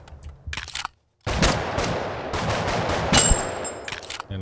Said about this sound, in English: the recoil on this isn't that bad for holding two Desert Eagles